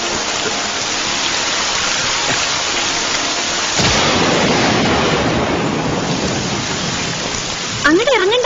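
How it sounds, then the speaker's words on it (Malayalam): Heavy rain pours down during a thunderstorm, a dense, steady hiss with a loud crack and rumble of thunder partway through, then continuing downpour. "മഴ വരണോന്ന് തോന്നണു. വരുന്നൂന്നല്ല, വന്നു വന്നു വന്നു വന്നു."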